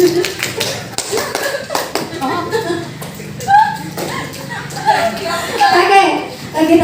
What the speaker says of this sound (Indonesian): Supaya berirame supaya tahu semua tepuk pramuka